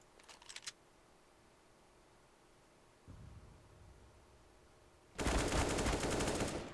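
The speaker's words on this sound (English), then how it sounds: "Good spray coming in there from Sam as he gets another kill in towards Enzo" Automatic gunfire sprays in the Counter-Strike video game, a short rapid burst at the start and a longer loud burst near the end, separated by a quiet stretch with a dull thump.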